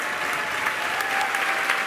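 A crowd cheers and applauds the deployment of a Starlink V3 satellite from SpaceX Starship on Flight 13, with dense, steady clapping throughout.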